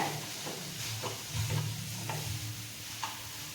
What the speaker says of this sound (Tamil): இது மாதிரி மாவோட அழுத்தி அழுத்தி கலரி விட்டுனே இருக்கணுங்க.